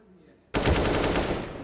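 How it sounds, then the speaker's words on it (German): A sudden burst of rapid automatic gunfire from the video game Counter-Strike (map Overpass, DreamHack Open Summer 2019 match) erupts after a quiet moment, loud and dense, continuing to the end. "schöner Schuss von Rein."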